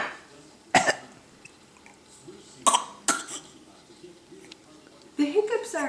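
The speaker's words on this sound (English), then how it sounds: "The hiccups aren't pretend though." A child's coughs and hiccups, several sharp isolated bursts spaced a second or two apart over a quiet background, with a voice heard near the end.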